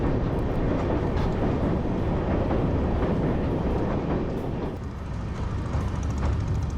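A train rolls across the new Pamban bridge at Rameswaram, a loud, steady, close rumble of wheels and carriages that holds for the whole stretch without a break, with no voices over it.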